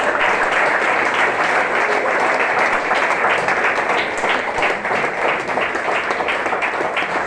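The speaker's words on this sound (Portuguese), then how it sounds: "Eu de palmas a palavra de Deus." A church congregation at a Sunday family service applauds, a dense, steady roar of many hands clapping at once that continues loudly and evenly throughout.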